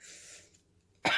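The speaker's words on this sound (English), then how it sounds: "have this persistent cough" A single harsh cough bursts out near the end, loud and close, after a brief quiet stretch with faint background noise.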